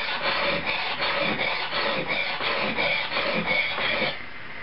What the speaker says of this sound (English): Most of my knife sharpening is done by feel more than anything.